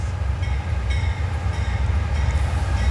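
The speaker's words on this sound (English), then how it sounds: "here she comes, Norfolk Southern." A westbound Norfolk Southern freight train rolls past near Elkhart, Indiana on the old New York Central line, a loud close steady rumble of rail cars with faint tonal squeal above.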